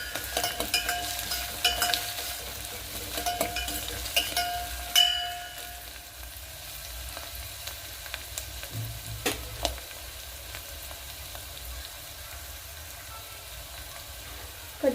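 Curry leaves fry in hot oil in a pan with a continuous crackling sizzle, a few louder pops and stirring scrapes along the way, no voices.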